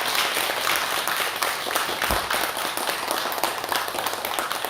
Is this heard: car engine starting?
no